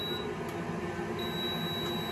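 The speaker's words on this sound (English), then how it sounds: "And you can hear a beeping there. And the beeping is... the soup's ready." A thin, high electronic beep from a kitchen appliance signalling soup is ready, sounding twice over a low steady hum.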